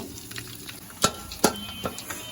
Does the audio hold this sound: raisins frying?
yes